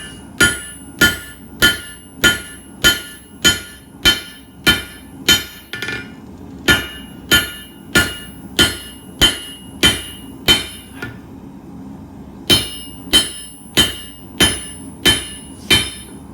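A hammer strikes H-13 tool steel on an anvil while a punch is forged and tapered, ringing in loud, evenly spaced metallic blows about twice a second, in three runs separated by short pauses.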